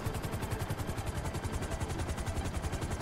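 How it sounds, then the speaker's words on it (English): A helicopter in the video game GTA 5 chases close behind, its rotor chopping in a fast steady pulse with a dense engine roar throughout. "We've still got fucking helicopters on our ass"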